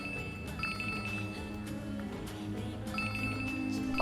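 A phone ringtone chirps in repeated short bursts, fairly faint, over a muffled background of voices and ambient noise, with no pickup.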